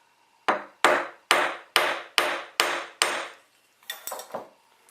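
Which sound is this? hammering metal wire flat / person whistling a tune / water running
hammering metal wire flat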